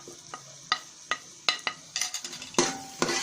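A spoon stirs ground chilli, turmeric, salt, cumin and black pepper frying in a pan, scraping and clinking in a series of sharp taps over a soft sizzle, fairly quiet and close.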